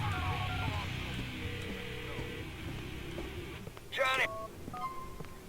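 A video game's in-game phone call plays a short burst of dial-tone-like beeps over steady game background sound, with a voice talking alongside.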